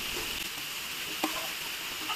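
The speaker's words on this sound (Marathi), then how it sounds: "भाजीला मस्त अशी उकळी आलेली आहे" Vegetable curry simmers at a boil in a pot outdoors, giving a faint, steady bubbling hiss with a few soft pops and no talk.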